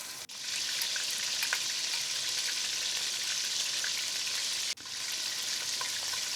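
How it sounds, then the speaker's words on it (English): Tuna chunks shallow frying in oil in a large non-stick pot give off a steady, loud, close sizzle that runs without break, with only a brief dip partway through. "Now we need to shallow fry the tuna chunks to give them a bit of color, texture"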